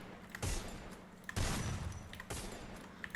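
Gunfire in a shooting video game, heard as three short, loud bursts of rapid shots spaced about a second apart, each fading into faint background noise.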